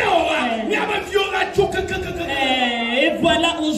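A crowd at a gathering cheers and acclaims loudly, a dense wash of yelling and whooping voices with a few sharper shouts rising out of it, sustained throughout.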